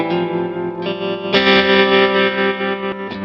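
An electric guitar plays sustained, distorted chords through the hall reverb setting of a NUX Trident multi-effects pedal. The tone is loud and dense, with a long, washy tail and no voice.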